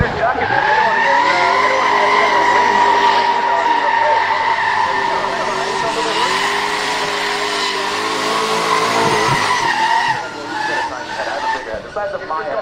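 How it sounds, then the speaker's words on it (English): A white Nissan GT-R drift car does a couple of burnouts at a motorsport festival, its engine droning loud and steady while the tyres squeal continuously, close up, for the whole stretch before easing off near the end. "White light GTR, rocking a couple burnouts there"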